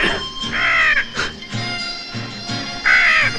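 A crow caws harshly in a western film, three loud ragged calls spaced about a second apart, close and clear with no talk over them.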